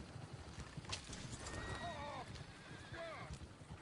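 Horses in Red Dead Redemption 2 neigh twice in shrill, wavering whinnies amid hoof clip-clops and a busy background, with a voice talking underneath.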